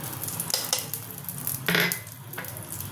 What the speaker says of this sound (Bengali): এবার আমি পেঁয়াজ মশলাটার মধ্যে আমি সব গুঁড়ো মশলাগুলো মিশিয়ে দেবো